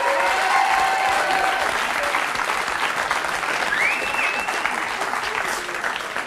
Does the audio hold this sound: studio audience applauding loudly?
yes